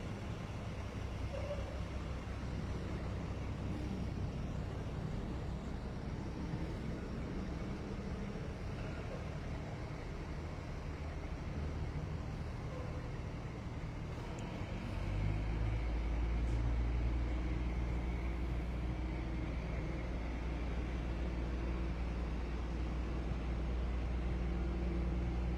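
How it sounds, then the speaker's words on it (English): Tow trucks and other vehicles roll past in a Fourth of July town parade, giving a continuous rumble of engines and road noise. A heavier, deeper engine drone swells in about halfway through. "Got some other vehicles making their way through here."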